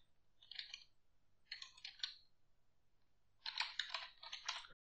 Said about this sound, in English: Let's type like this.